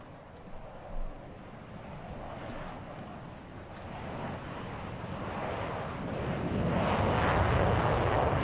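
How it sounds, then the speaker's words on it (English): A fast jet aircraft flies past, its broad roar swelling steadily from a distant rumble to a loud, rushing blast near the end, with some wind buffeting on the microphone. "a little bit of fast jet action"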